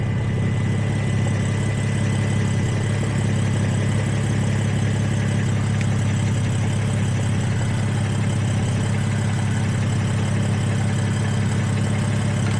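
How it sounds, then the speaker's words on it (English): BMW M3 idling with a resonator installed in the exhaust, a steady, continuous low rumble with a deep bass drone that holds constant and close throughout, with no voices over it. "Honestly, the exhaust sounds way better already with the resonator in there."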